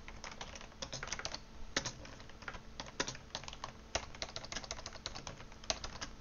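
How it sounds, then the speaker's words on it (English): Typing on a computer keyboard during a Clash of Clans livestream, a quick, irregular run of close key clicks with a few sharper strokes, alone with no talk. "Apparently I can't type."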